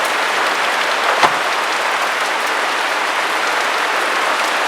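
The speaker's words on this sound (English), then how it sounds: "Here comes the rain right down the roof, like a waterfall, right into my paint." Heavy rain pours off a roof like a waterfall, a dense, steady roaring hiss that never lets up, with one brief knock partway through.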